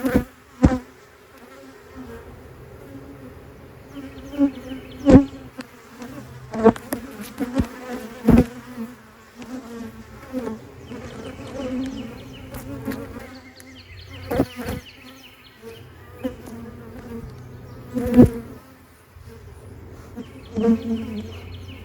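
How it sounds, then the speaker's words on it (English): Honey bees buzz in and around an open hive during a mid-May inspection, several passing close with sharp bursts over a quieter steady hum. "Most of the bees will return to the beehive."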